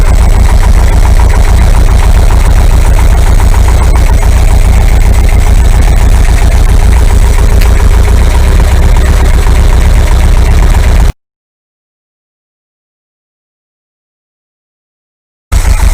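An air-cooled 2-litre VW engine idling smoothly with a low, even rumble for about eleven seconds, then a sudden cut to silence before a brief return at the end.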